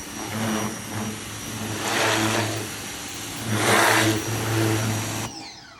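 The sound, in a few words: RYOBI 1800 PSI electric pressure washer spraying dirt off a toy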